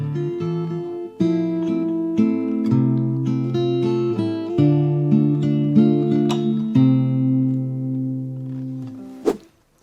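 Fingerstyle acoustic guitar plays an intro section close up, with plucked bass notes and melody ringing in a gentle, steady rhythm before a final strum-like burst at the end.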